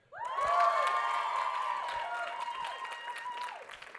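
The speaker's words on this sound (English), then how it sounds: "from this side of the room, cheer the courage it takes to stand up here." A room full of people at a live storytelling event bursts into cheering, whooping and clapping, loud and sustained for several seconds before easing off.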